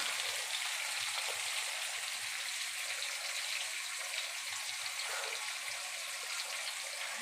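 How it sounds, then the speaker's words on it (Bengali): Potatoes fry in a pan, a soft, even hiss of sizzling oil that runs steadily throughout, fairly faint and with no voices. "আলুটা ভাজা হোক।"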